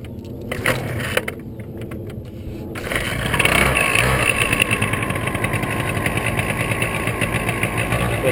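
A small paramotor engine starts and settles into a loud, steady, buzzing run close by at an airfield, with a faint hum and a few clicks before it kicks in.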